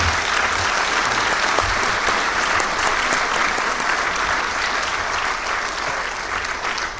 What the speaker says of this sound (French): Je vous propose qu'on applaudisse à nouveau notre orateur.